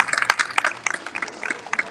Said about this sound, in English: Let's give yourselves a round of applause, please, for just coming out today